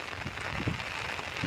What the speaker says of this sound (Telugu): ఇది మొత్తం వర్షం పడే టైం అనమాట